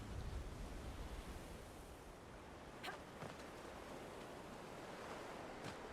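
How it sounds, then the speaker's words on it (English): Waves roll in steadily on the Storm Coast in Dragon Age Inquisition, a soft, constant surf wash with a few faint crests breaking through, heard alone. "I love the Storm Coast. So nice to just sit here and watch the waves roll in."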